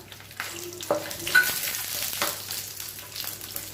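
Curry leaves and garlic fry in hot oil for an egg curry, giving a soft, steady sizzle with a few light clinks and stirring scrapes, fairly quiet and with no talking.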